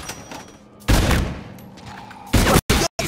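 Heavy bursts of gunfire from the video game Call of Duty Infinite Warfare, with sustained loud automatic fire over a steady background of game noise and two short clipped volleys near the end, no talking.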